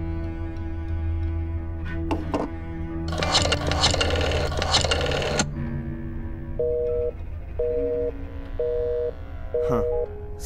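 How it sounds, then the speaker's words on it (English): Telephone keypad dialing tones in the Black Mirror II video game, a series of short evenly spaced beeps in the latter half, following a burst of louder game noise and background music. "Seems like she's on the phone."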